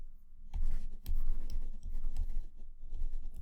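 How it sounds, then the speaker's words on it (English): Handwriting with a pen or pencil on paper while working through a math unit-rate lesson: close, quiet scratchy strokes in short bursts, with no talking. "I'm actually just going to write this"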